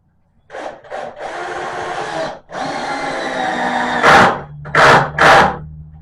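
Cordless power drill driving 2-inch screws into wood, a loud close whirring that runs in several sustained bursts, ending with short revving pulses as each screw seats.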